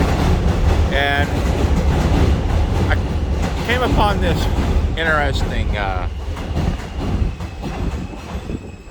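Rumbling ride inside a New York City F train subway car, a steady loud roar with metallic wheel squeals rising and falling, while someone talks over it.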